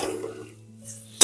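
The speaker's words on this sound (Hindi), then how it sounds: "मैं राइस कुकर के ढक्कन को उस पर लगा दूंगी फिलहाल।" Metal pots and a rice cooker lid clink in a home kitchen, a few soft scrapes followed by one sharp, close clang at the end.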